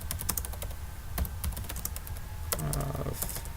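Computer keyboard typing while coding: quick, irregular clusters of close, crisp key clicks with short pauses, no talking.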